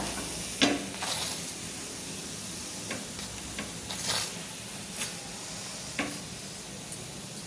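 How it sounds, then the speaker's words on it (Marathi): Methi paratha frying on a hot pan gives a steady low sizzle, with occasional soft taps and scrapes from turning it, close and fairly quiet with no talk. "छान लाल लाल करपेपर्यंत मस्त भाजायचा"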